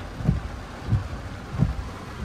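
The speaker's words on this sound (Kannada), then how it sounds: "ಫುಲ್ ಜೋರ್ ಮಳೆ ನೋಡಿ" Heavy rain pours steadily at Ullal beach, a dense, constant hiss with low rumbling gusts of wind buffeting the microphone at regular intervals.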